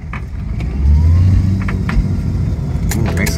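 A homebrew electric Suzuki Swift accelerates in first gear, giving a loud, steady motor whine and road rumble with a few light clicks and rattles, and no voices.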